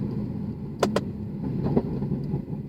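A 2012 Mercedes W204 C63 AMG with a tuned transmission runs steadily at close range, and two sharp cracks from quick gear shifts come in fast succession over the engine drone.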